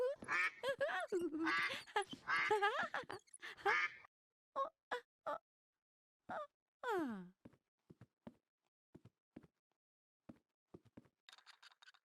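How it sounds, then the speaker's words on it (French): Plastic toy duck pulled along on a string in a cartoon, giving a run of short, separate quacking squeaks after a stretch of talking, with quiet gaps between them. "Rosie entra dans la salle tirant son canard en plastique par une ficelle."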